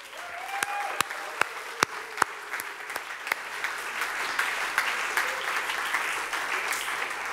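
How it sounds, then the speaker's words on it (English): A live audience applauds at a concert to thank the crew. A few sharp, separate claps come first, then a steady, dense round of clapping runs to the end. "Huge applause for them."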